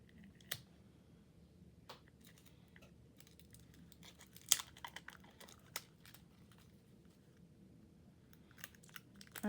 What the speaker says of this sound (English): Trying to open it without actually damaging the tape.